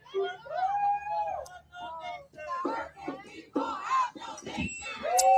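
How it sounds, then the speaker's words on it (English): Crowd of protesters outside, roughly 40 to 50 people, shouting and yelling in overlapping bursts that swell and fade, fairly close and loud throughout. "And still a pretty decent crowd out here."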